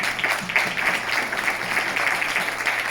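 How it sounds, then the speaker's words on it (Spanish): An audience at an event on partnerships for sustainability gives a steady wash of applause. The clapping is moderately loud and stays even for a few seconds. "un aplauso de nuevo para ti"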